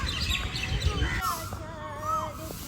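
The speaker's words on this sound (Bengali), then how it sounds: "কি সুন্দর পাখির ডাক শোনা যাচ্ছে" Birds call outside Belur Math before dawn, around 3:50 in the morning: a few faint, short chirps and whistles over quiet background hiss.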